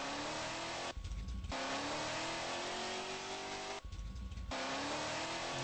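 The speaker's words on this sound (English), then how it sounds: "Zooms right along in fifth gear." A car engine in a racing video game revs steadily in fifth gear, a loud continuous droning whine that rises in pitch, cut by two brief dips like gear shifts, with no talking.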